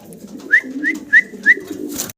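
Pigeons coo four times in an even series of short calls, fairly close and clear over a soft low background hum, with a faint rustle at the end.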